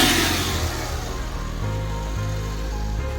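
A Suzuki DA64V 4x2 van engine runs close by and revs in short steady steps, its pitch rising and falling between level holds, with no voices.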